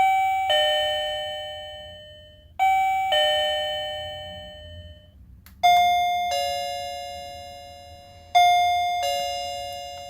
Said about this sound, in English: I think the older one is just a little bit louder than the new one.